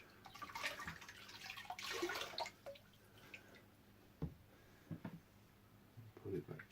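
Sponge filter from an axolotl tank wrung out in old tank water, with soft sloshing and dripping bursts that come and go, several squeezes in a row under some background noise.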